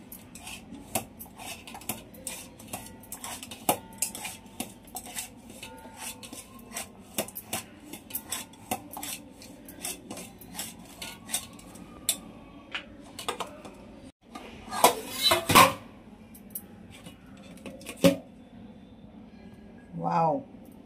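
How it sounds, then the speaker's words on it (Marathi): Spongy dhokla being demolded from a metal pan, with scattered light clicks and taps of metal utensils, then a brief louder scraping burst. A voice talks throughout. "आता आपण हा डीमोल्ड करून घेऊया."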